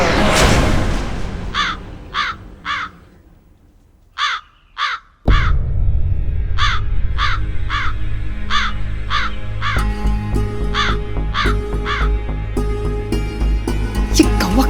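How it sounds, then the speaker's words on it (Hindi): A crow caws repeatedly in loud, evenly spaced bursts of two or three calls, first over quiet room ambience, then over a denser background of music. "ये कौवा कब से परेशान किए जा रहा"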